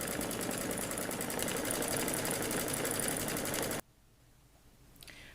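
Embroidery machine stitching out the top of a sparkly New Year's Eve placemat in dark navy thread, a steady, loud, rapid mechanical whir for nearly four seconds that then stops abruptly, leaving quiet room tone.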